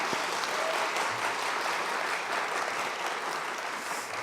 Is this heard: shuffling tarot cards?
no